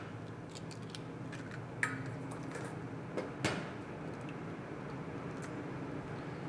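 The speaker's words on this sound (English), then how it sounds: "Crack your eggs." Eggs for a three-egg American omelet being cracked into a bowl: a few faint, brief cracking clicks, one soon after another, over a quiet kitchen background.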